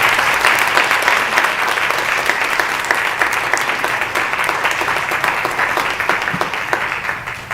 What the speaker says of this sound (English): let's applaud our panel and our moderators